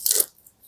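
A single crisp crunch from biting into a pan-fried mung bean pancake (bindaetteok), a short close bite that fades quickly to near silence.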